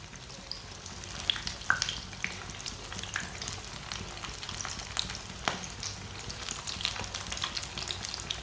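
Winter snacks browning in a pan over medium heat give a steady, even crackle of frying oil with occasional sharper pops. The sound is close but fairly gentle, and nobody speaks.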